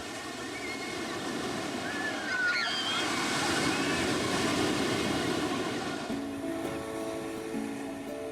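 Ocean waves rolling onto a Cape Town beach such as Muizenberg, a continuous moderate wash of surf with some wind, with a soft tonal music bed entering toward the end.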